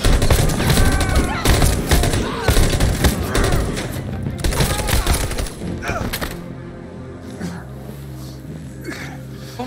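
Gunfire in the video game Detroit: Become Human, a dense burst of loud overlapping shots over the first several seconds, then tapering into quieter rumble and tonal score.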